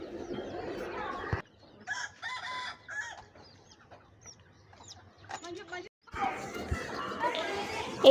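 Chickens and a rooster cluck and squawk in a farm coop after heavy rain, bursts of close, harsh calls broken by quiet gaps, with a person talking over parts of it.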